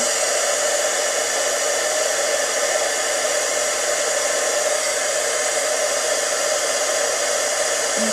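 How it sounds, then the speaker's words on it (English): Heat tool blowing on embossing ink during card making, a continuous, even, fan-like whir with a steady hiss that holds at one level for the full eight seconds, close and alone. "And then I'm going to take my heat tool"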